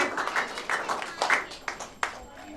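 An audience at a quiz event claps to welcome a library secretary. Scattered, fairly close hand claps come in uneven bursts, mixed with voices.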